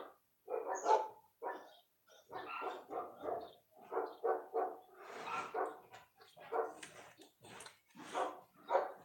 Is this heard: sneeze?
no